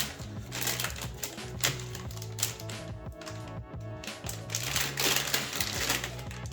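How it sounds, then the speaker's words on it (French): A graphics card is pulled from its packaging, giving close, irregular crinkling, tapping and rustling of box and plastic, fairly faint, with brief scraping knocks and no talking. "là je viens enlever la carte de son emballage"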